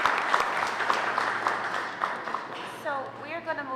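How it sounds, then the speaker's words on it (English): At a Cleveland CPC quarterly meeting, listeners give moderate applause after a presentation, scattered claps fading as a voice begins speaking over the tail. "So let's give them a round of applause."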